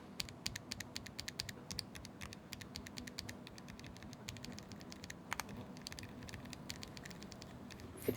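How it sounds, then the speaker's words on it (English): Akko Creamy Purple mechanical switches on a keyboard with no keycaps are typed on continuously, a soft, close patter of rapid keystrokes with occasional slightly louder clacks over a faint background hiss. "if we do a quick comparison test of the switches in the keyboard with no keycap"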